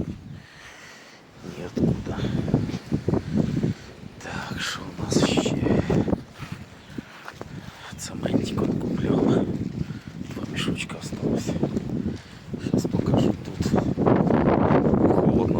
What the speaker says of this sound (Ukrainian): ну вітер такий, прямо аж, аж зимній